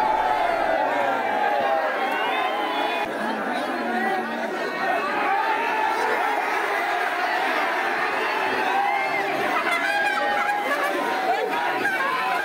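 Dense festival crowd at the Mankeshwar yatra in Peth, a loud continuous wash of many overlapping voices and shouts pressing close all around, with no single voice standing out.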